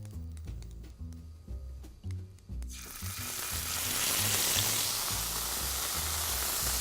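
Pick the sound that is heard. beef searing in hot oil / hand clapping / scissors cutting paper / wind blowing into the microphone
beef searing in hot oil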